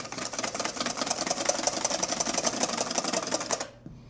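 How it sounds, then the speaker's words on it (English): A whisk beats egg whites and sugar into meringue at steady high speed, a dense rapid whirring rattle close up that stops abruptly near the end. "Continue to whisk."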